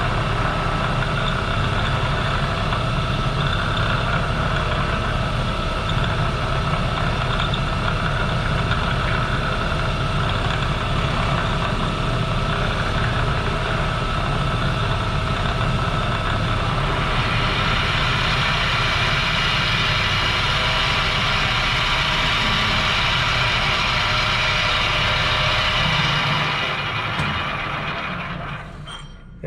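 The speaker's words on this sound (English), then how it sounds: "That sound was all this getting wrapped around the end or the tip of the live center." A wood lathe spins as epoxy shavings wrap around the tip of the live center, making a loud, continuous motor drone with grinding, whirring noise that stays steady throughout and brightens partway through.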